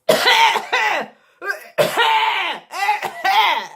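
A series of loud, harsh coughs in close succession, one after another with short pauses between bursts.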